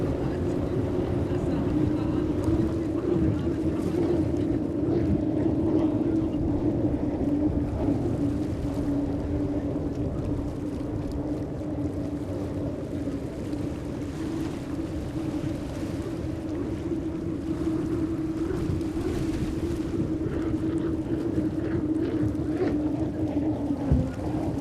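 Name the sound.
XCAT powerboats racing at the Fujairah GP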